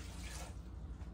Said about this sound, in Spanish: A los nopales nomás les voy a poner agua